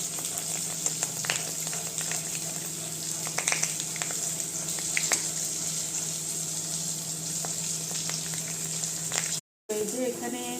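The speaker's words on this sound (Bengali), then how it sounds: "আমি অল্প তেলেই ভাজছি, কারণ কি বেশি পাঁপড়টা ভাজবো না" Papad shallow-frying in a little oil in a home kitchen, giving a steady, close sizzle with scattered crackles and faint utensil clicks throughout, broken by a brief dropout near the end.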